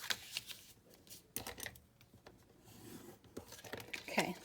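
Paper being folded and creased by hand while making a 4x5 Christmas mini folio from textured cardstock, giving soft crinkles and sharp crisp snaps in short bursts, close and fairly quiet.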